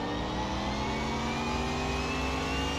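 A supercharged truck engine revs steadily in Car Mechanic Simulator 2021, giving a continuous loud, rising engine drone with whine, with no one talking.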